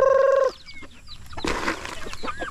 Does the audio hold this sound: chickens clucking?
yes